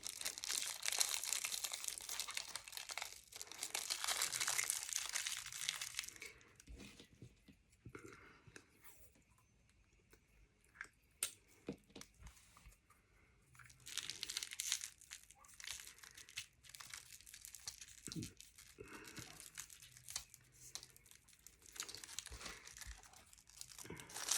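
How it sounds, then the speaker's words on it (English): Cellophane is crumpled and crinkled by hand while decorating a handmade flower, bursts of bright rustling and tearing crackle up close, alternating with quieter pauses and occasional handling noises. "Okay, I will do this one with a bit of cellophane again."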